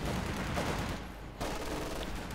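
Half-track machine gun fire in the World War II strategy game Company of Heroes 2, dense rapid bursts of gunfire in a busy battle mix with a brief pause.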